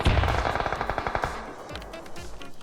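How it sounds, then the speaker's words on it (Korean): Rapid automatic gunfire from the video game PUBG Battlegrounds, a loud close burst of evenly spaced shots that thins out into scattered, fainter reports. "저거 방금 총소리 나는 거 봤죠"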